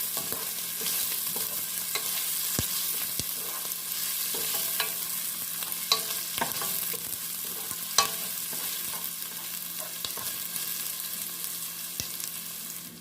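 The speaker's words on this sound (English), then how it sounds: "And then just stir this for about 2 minutes." A pot of white bean chicken chili with onion, pink salt and pepper being stirred, a soft continuous sizzle with periodic spoon scrapes and taps against the pot.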